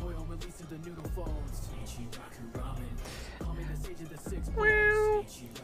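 A person imitates a cat meowing, a drawn-out nasal mewing cry near the end after stretches of excited talking.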